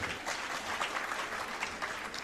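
An audience claps steadily through a Jain sermon by Sudha Sagar Ji Maharaj in Agra, a dense, even patter of many hands heard without a break.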